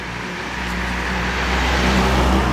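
Weekend road traffic passes close by on a roadside where a mailbox is being installed: a car engine rumbles loud and steady, swelling slightly as it goes past, with no talking.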